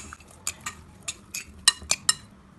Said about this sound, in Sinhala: ලුණු කුඩු තේ හැඳි භාගික ප්‍රමාණයක් එකතු කරගෙන මම මේක හොඳින් මෙන්න මේ වගේ කලවම් කරගන්නවා